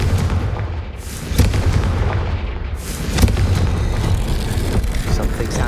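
A Confringo explosive spell cast in Hogwarts Legacy, heard as loud booming blasts with broadband bursts, the sharpest near the start and another midway, over a continuous rumbling game soundscape.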